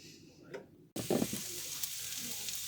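Onions softening in a pan give a faint, soft sizzle with some stirring, quiet and close, following a brief cut at the start.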